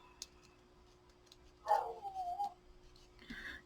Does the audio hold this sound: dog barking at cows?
yes